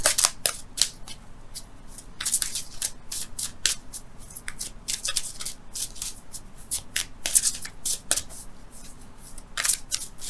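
Tarot cards are shuffled by hand in a quiet room, a close series of crisp riffling and slapping bursts that repeat irregularly with no voice present.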